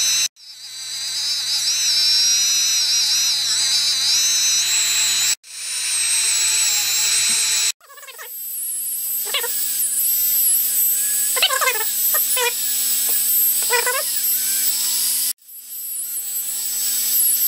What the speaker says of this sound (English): Load up with a little bit of a jeweler's rouge and just proceed to polish it.